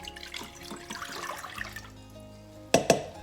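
Water being poured into a pot for a homemade elderberry syrup recipe, a steady trickling pour running for about two seconds, then two sharp clinks.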